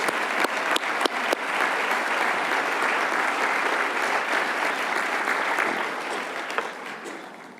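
A crowd at an awards ceremony claps steadily for service honorees in sustained applause, dense and fairly loud, with a few sharper claps standing out near the start.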